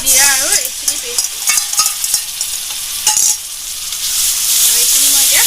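Jaluk (long pepper), cumin and ginger-garlic paste fry in hot oil for a local chicken curry, a steady loud sizzle with stirring scrapes and brief voice fragments at the start and end.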